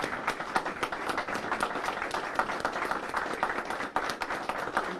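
People gathered for a bridge dedication honoring a Randolph war hero applaud the veterans standing among them, a sustained, moderately loud round of clapping from a sizable crowd throughout.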